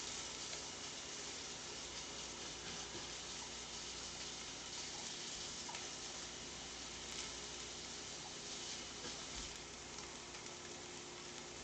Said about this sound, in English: Just rinsing the fork here